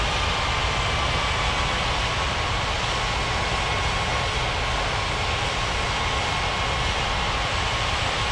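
Steady, continuous engine roar of an airliner taxiing in the air traffic control video game Unmatched Air Traffic Control, a broad even rumble with no breaks, heard alone.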